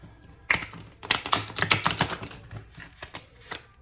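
Rapid papery riffling and tapping of a deck of tarot cards being shuffled with long nails, a quick burst of soft slaps and flicks close by, no voices.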